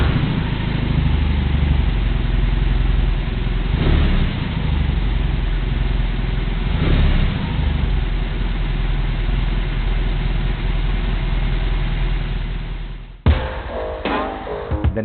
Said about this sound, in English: let me give you a quick listen on how this big boxer engine sounds like.